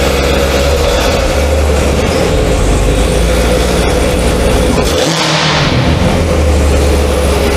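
A Honda Civic coupe engine revs loudly and close by in a dense, rumbling roar that holds steady for several seconds with a brief dip midway.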